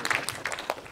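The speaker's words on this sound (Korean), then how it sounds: "박수." Audience applause at a film screening in a Lotte Cinema World Tower hall: a short, fairly soft patter of clapping from a crowd.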